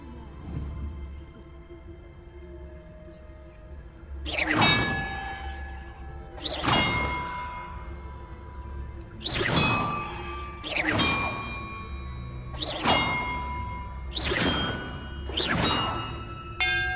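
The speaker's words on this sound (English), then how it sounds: "Perhaps the map contains clues about the order I'm supposed to ring the bells in." Bells ring out in the video game Hogwarts Legacy, six or seven separate clear metallic dings struck one after another at uneven intervals, each with a long shimmering decay over a low steady ambient hum.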